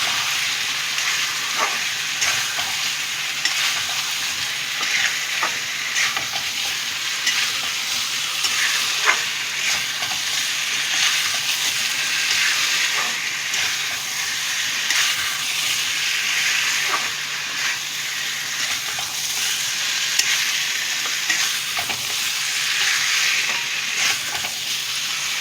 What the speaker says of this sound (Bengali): গরম জলটা দিয়ে ভালো করে সব মশলাগুলো একসাথে কষিয়ে নেব।